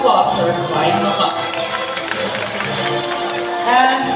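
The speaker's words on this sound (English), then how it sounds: "So a round of applause for flying macaws." Crowd clapping and cheering at a live bird show featuring flying macaws, a steady wash of applause from a large outdoor audience with brief shouts, holding at an even level throughout.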